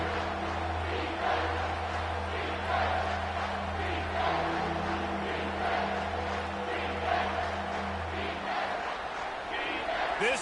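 In the College Football 25 video game, a stadium crowd roars in a dense, constant wall of sound with a low droning hum, while a commentator talks over it.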